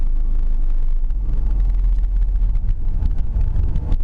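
Inside a 1.8-litre, 125 bhp Ford Mondeo on the move, a steady low rumble of engine and road fills the cabin with a constant, fairly loud drone and no talking.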